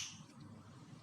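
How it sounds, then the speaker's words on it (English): A single finger snap cracks sharply at the very start, then only quiet room tone follows, with no talk. "if I snap my fingers"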